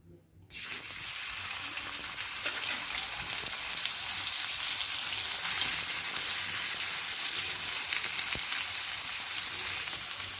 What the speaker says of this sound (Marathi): तर मी गोल्डन कांदा भाजून घेणार आहे